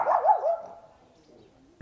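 A dog barking in the small Spanish village of Gorafe, a couple of quick yelping barks up front that fade into quiet, with a faint distant whine afterward.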